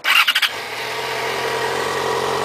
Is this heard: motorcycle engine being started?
yes